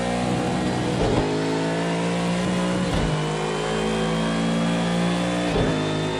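Race car engine sound from a racing video game, loud and continuous, revving steadily with brief dips as gears shift, heard alone with no talking.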